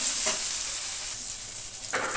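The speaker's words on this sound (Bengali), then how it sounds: "আলুটা আমার একটু ভালোই ভাজা ভাজা হয়ে গেছে" Potato pieces fry in hot oil in a pan with a steady, close sizzle, broken by a few soft scrapes as they are stirred, with no talking.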